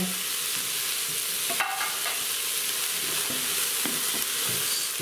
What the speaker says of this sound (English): Stir these things around.